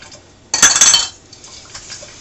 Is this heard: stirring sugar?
yes